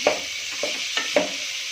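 Colourful vegetables for Manchow soup are stir-fried over medium gas, with four quick scraping stirs over a soft, steady sizzle, close and fairly quiet.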